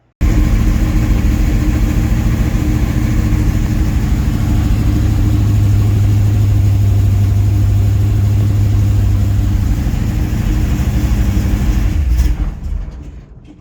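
Vehicle engine running steadily after weed whacker fuel was dumped into it, a loud, continuous close-up rumble with a deeper hum in the middle that cuts off abruptly near the end.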